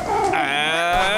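Cartoon cats yowl and screech in a frantic attack, a loud continuous caterwaul with rising, wavering cries filling the whole moment, no talk over it.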